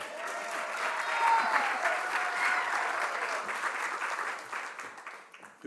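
Steady applause from a luncheon audience honoring a man for 26 years at GEUS, a sustained wash of clapping that holds for several seconds and tapers off near the end, with no talk over it.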